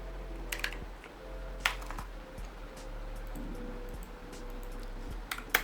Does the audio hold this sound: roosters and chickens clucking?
no